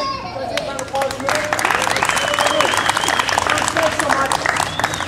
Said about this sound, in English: Can I take a round of applause?